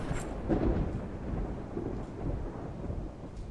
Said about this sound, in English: The storm's getting fairly savage now.